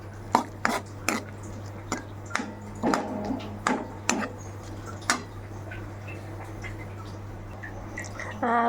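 Peanuts added to a tomato and potato curry and mixed in a pan with the gas off, producing a series of irregular metallic clinks and scrapes from the spoon over a steady low hum, then trailing off.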